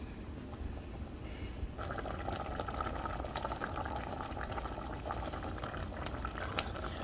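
Beef stew thickened with a gravy slurry bubbles in a pot, a steady dense simmer of small pops and gurgles that rises a little after the first couple of seconds, with no talking.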